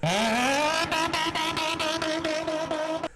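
A voice imitates a car's wheelspin and launch, a rising engine whine that settles into a rapid pulsing revving burst, loud and close, lasting about three seconds.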